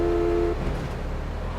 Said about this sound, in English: Do I honk the horn, I think?